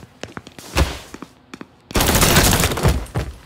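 Gunfire in the video game Mafia 3: sharp separate shots crack out in an uneven pattern, then a dense, loud barrage of continuous fire takes over for the final second and a half.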